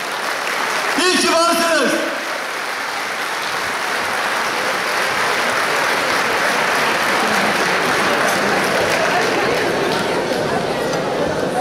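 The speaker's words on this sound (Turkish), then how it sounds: "Alkışlarla uğurluyorum sevgili dostlarımı." An audience gives sustained applause as guests are sent off at a gathering. Dense clapping fills the room at steady loudness, with a voice speaking briefly near the start before the clapping takes over.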